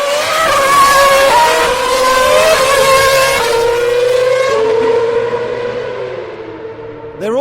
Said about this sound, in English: Rebel cars are going to be flying in formation